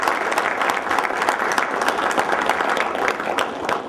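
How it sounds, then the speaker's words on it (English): Audience applause at a press conference for the signing of an MOU between AFC and Alabama A&M University, with dense, steady clapping that holds loud and unbroken through the whole stretch, with no talk over it. "So I'd like to give them just a round of applause."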